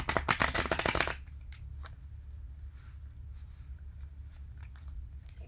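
A tarot card deck is riffled for about a second, a rapid loud flutter of cards, followed by quiet room tone with faint handling sounds.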